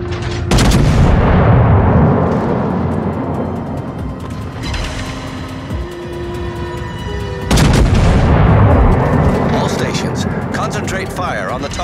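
Battleship main guns booming in a naval combat game, two heavy blasts several seconds apart with long rumbling decay, over engine hum and a steady tonal drone, with a voice speaking between salvos.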